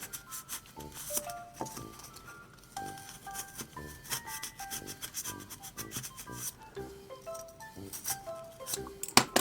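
A long utility knife saws vertically into a Daiso polystyrene foam ball, giving a steady run of close, squeaky, rasping strokes with high creaks and no voices.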